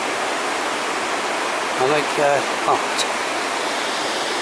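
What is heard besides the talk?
water flowing over a weir on the River Taff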